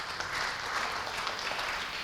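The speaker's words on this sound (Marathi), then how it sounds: "एकदा तुम्हीच तुमच्यासाठी एकदा जोरात टाळ्या या ठिकाणी वाजवा" An audience at a business conference in Pune claps together in a brief, dense burst of applause, faint and distant-sounding, with no talking over it.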